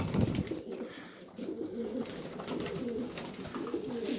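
A caught stray homing pigeon coos in a low, repeated rolling rhythm close by, steady over a faint background, with no talk.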